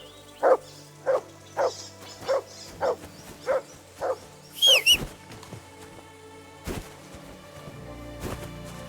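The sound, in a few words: dog Mutt barking in Kingdom Come: Deliverance 2 video game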